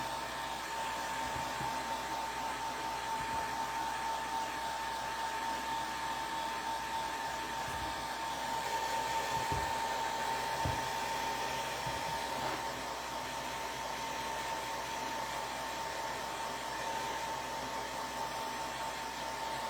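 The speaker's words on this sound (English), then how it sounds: "I'm going to take a blow dryer to this. Just dry it a little bit." A hair dryer blows continuously at a steady pitch drying a craft project, a constant whooshing hum with occasional faint knocks beneath it.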